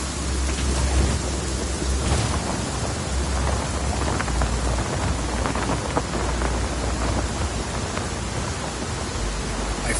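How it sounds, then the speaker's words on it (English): Thunderstorm in the video game Just Cause 4, a dense steady roar of heavy rain with rolling thunder underneath, loud and continuous without speech. "Storm's rolling in."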